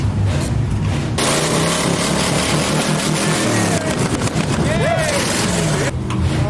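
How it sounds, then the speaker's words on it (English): A nearby monster truck's engine revs loudly and steadily, a rough, continuous roar with a few rising surges, while people talk over it. "Oh, they got a monster truck over there."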